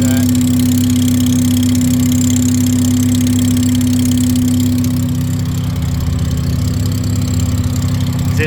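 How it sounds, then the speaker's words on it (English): A turbocharged Mazda RX7 rotary engine idles close by with a loud, steady low drone, a constant tonal hum over the top and a faint ticking from a header exhaust leak, the tone easing slightly partway through. "it sounds like there's a little bit of an exhaust leak here by the header"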